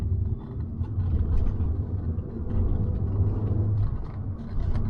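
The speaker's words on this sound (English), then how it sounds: "Let it warm up a little bit before I start doing full pulls on it." A cheap Audi TT Quattro with a sputtering, underboosting engine idles while warming up, producing a steady low rumble close by in an enclosed space with no talking.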